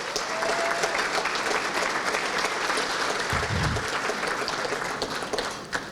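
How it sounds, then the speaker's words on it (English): A large audience of almost 400 at a Hammond annual dinner at the Horseshoe Casino applauds in dense, steady clapping that fills the room for several seconds. "A round of applause for everyone."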